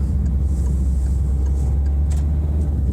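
A car in eco-safe driving gently accelerating back up to a 20 mph limit after a left turn, giving a steady low engine and road rumble from inside the cabin with faint clicks and no talk.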